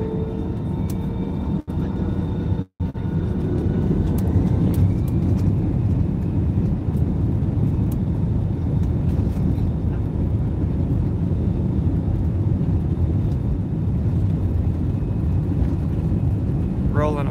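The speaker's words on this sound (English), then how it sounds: "Rolling about 15 seconds of what should be a 40-second takeoff roll." Cebu Pacific Airbus A320 on its takeoff roll at Mactan-Cebu, a loud steady engine roar heard from inside the cabin, with a couple of brief thumps near the start and a rising whine toward the end.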